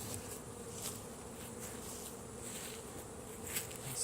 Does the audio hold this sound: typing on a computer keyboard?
no